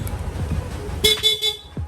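A stock motorcycle horn on a Yamaha NMAX 155 sounds in a few quick toots over a low idling engine, loud and near.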